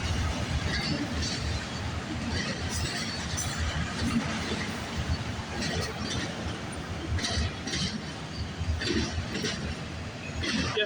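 A night freight train made up entirely of empty auto rack cars rolls past close by with a continuous rumbling roar and scattered metallic clinks and squeals, steady throughout.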